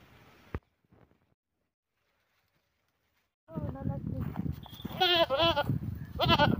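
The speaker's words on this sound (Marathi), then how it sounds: "हे बघा सगळीकडे शेळ्या तुरीमध्ये आनंदाने खात आहेत सगळ्या शेळ्या." Goats grazing in a pigeon pea field at midday bleat in several close, loud calls, clustered in the second half after a quiet opening with one brief knock.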